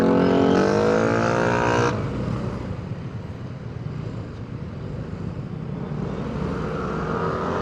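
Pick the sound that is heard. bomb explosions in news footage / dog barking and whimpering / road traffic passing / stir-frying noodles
road traffic passing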